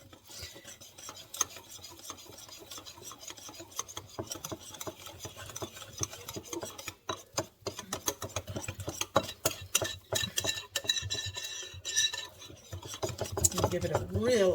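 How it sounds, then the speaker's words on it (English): Sourdough pancake batter with vanilla mixed by hand in a bowl, a run of scraping, rasping strokes in an irregular rhythm that grow busier and louder toward the end, close and fairly quiet. "Give it a really good mix, because I want that starter all through these pancakes"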